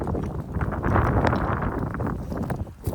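Strong wind buffeting the microphone outdoors beside a Stihl FC91 edger, a steady low rumbling roar with gusty swells throughout, close and loud, no talk.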